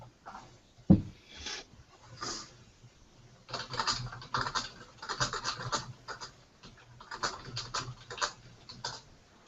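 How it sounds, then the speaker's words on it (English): Clicky keystrokes from a computer keyboard come in bursts of rapid, uneven taps, close and fairly quiet, with one sharper knock near the start and a faint steady hum underneath. "I guess I could have muted that before I started typing, huh?"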